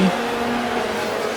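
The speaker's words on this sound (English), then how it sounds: "Ricciardo is alongside Lando Norris P5, then. P5. DRS enabled" Formula 1 cars racing in the F1 Manager 24 video game, a steady engine drone close by with a sustained even tone and little variation.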